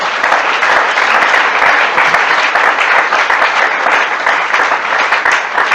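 A church congregation applauds in acclaim of the Lord, steady dense clapping that holds loud and continuous throughout.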